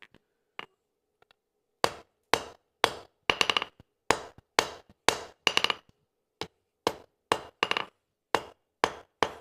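A glowing hot railroad spike struck with a hammer on an anvil during a forge weld, a steady series of about fifteen sharp, ringing blows, some in quick doubled bursts, close and clear with no talking.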